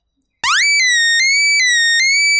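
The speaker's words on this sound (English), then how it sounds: "according to the situation we can use this siren too" A disaster relief emergency app plays a loud electronic siren that sweeps upward and then holds a steady high tone with regular pulsing beats, close and alone.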